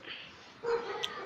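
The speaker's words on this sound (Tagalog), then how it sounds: "So, may tumatahol pong aso." A dog barks and yips faintly in the distance, a couple of short sounds over quiet background noise.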